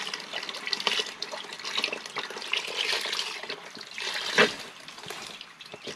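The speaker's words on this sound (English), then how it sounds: "So this is the 32 ounces of beef stock." Thirty-two ounces of beef stock poured into a pan while cooking outdoors on a boat, a soft continuous splashing liquid stream with small gurgles and a brief louder splash.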